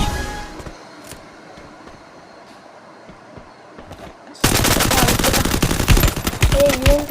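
Quiet game ambience with faint clicks gives way to a loud, sustained burst of rapid UMP submachine gun fire in a shooting video game, continuing to the end.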